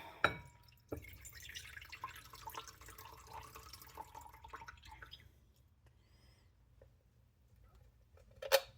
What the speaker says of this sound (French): L'eau de la canne dans le bol.